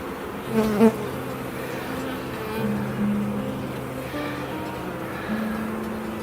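Honey bees buzz around an open brood frame lifted from a single brood box hive, a dense steady drone with shifting pitches as individual bees pass close, no talking.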